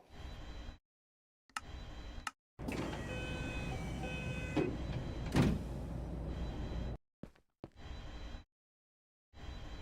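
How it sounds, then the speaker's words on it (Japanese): Train doors sliding shut on a Minecraft city railway, a steady electric whir with a couple of soft knocks, framed by short bursts of a separate sound before and after, with no voices. "ドアが閉まります。 ご注意ください。"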